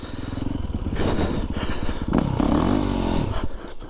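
A Yamaha YZ450FX dirt bike on a trail ride, its engine loud and close, chugging at low revs, then stumbling and dropping in pitch as it flames out, with some scraping and clatter.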